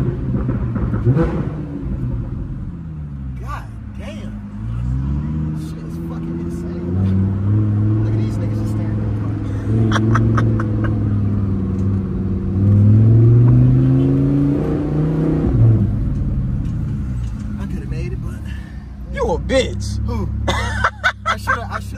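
Loud engine of a Lamborghini revving on a city street among ordinary traffic, a deep rumbling drone that rises and falls over about twenty seconds, with people talking over it.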